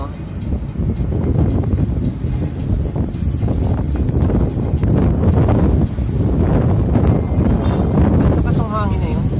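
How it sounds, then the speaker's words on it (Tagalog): Strong wind buffeting the microphone in loud, rumbling gusts that rise and fall, with people talking underneath. "Lakas ang hangin na yun."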